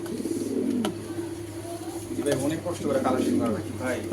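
A male racing pigeon of Belgian and Dutch bloodline coos in a low, repeated rolling call from close by, while someone talks over it throughout.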